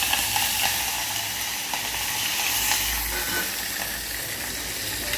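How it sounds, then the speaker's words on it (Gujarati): Dal being tempered in hot oil at home, a loud continuous sizzle and crackle that holds steady throughout without talk. "જો પૂજા દીદી ડાયર વઘારવા માંડ્યા છે"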